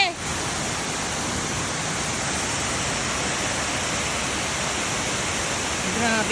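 Thousand Layers waterfall pouring in a dense, steady, broadband rush, loud and close, continuous throughout with no pauses.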